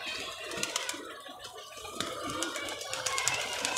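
A pet pigeon painted with bright colours coos softly amid a steady hiss of background noise, with scattered clicks and faint rustling close by.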